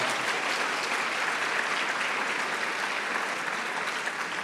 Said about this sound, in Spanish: Ahora un aplauso a la gospel. Más fuerte.